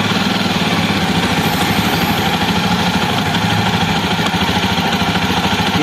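A steady mid-pitched engine of a Jawa motorcycle runs continuously at idle with a faint mechanical vibration, no voices, holding a fairly even level throughout.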